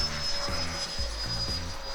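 A Freewing T-33 model jet with an 80mm electric ducted fan rolls overhead. It makes a continuous loud whining roar with a steady high tone and a rhythmic low pulsing underneath, and no one speaks.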